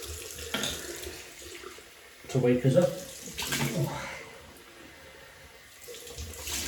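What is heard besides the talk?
tap water running for a rinse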